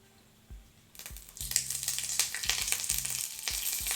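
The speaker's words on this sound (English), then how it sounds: "Okay, I'll add the ginger garlic paste. Hopefully the skillet's not too hot for it." Ginger garlic paste hits a hot skillet and bursts into a loud, bright sizzle that holds steady, with a few low thumps beneath, close and with no voices.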